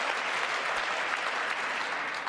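Continuous, uniform applause from a large chamber audience at the State of the Union, a dense hiss of many hands clapping together, steady and unbroken from start to finish.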